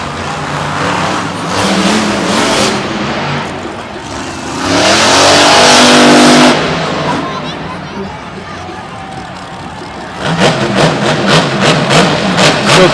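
The Max D monster truck's engine at a Monster Jam show in Tampa, loud and close, roaring and revving in long rising and falling surges with a final rapid, pulsing burst of throttle.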